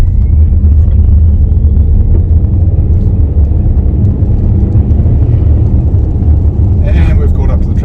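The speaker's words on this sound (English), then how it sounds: "The acceleration, when you just drive it briskly, is very impressive." An MG HS plug-in hybrid SUV accelerates hard, its steady low engine and road rumble loud and constant from the cabin throughout, with a brief brighter whoosh near the end.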